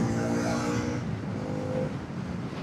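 A 2025 Bajaj Pulsar NS200 motorcycle engine holds a steady, loud drone near 5500 rpm while riding on a service road, with a slight pitch dip partway through and continuous wind and road noise.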